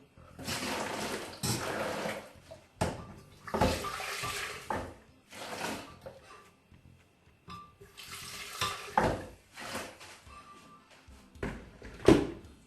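Water gushes and splashes into a bowl in repeated bursts, stopping and starting several times, close and fairly loud with no talking.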